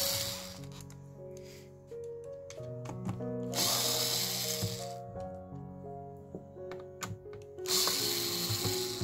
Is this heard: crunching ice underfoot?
no